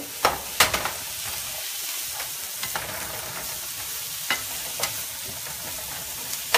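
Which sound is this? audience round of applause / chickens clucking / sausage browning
sausage browning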